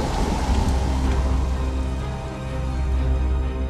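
Heavy rain pours steadily and loudly, a dense continuous roar with a deep rumbling undertone like distant thunder, no voices.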